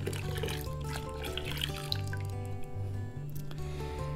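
Yeast poured into 5 gallons of porter wort for a bourbon barrel porter, giving a steady close liquid trickle and dripping over a low continuous hum, with no talking.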